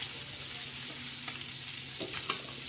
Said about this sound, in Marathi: आता चवीनुसार आपण थोडंसं त्याच्यावर जिरे आणि लसण टाकणार आहोत. मस्त असं छान असं हलवून घेणार आहे.